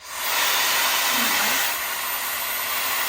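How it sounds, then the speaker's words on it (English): A loud Shark FlexStyle air styling tool in hair dryer mode blows steadily and close, a constant whooshing roar that shifts slightly in tone partway through before cutting off. "I'm gonna put it into hair dryer mode and test it out. See how loud it is."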